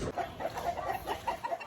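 Soft, scattered clucking from a few White Leghorn chickens, short irregular calls at moderate distance over faint background noise.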